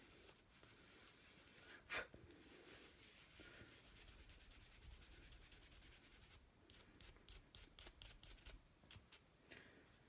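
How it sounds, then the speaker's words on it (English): A firm-bristled toothbrush brushes lightly over the back of a clay piece, giving a soft, close scrubbing hiss that turns into a burst of short, quick strokes near the end, with no voices. "I take a firm bristled toothbrush and rub the back very lightly with just enough pressure to help get that clay smoothed out"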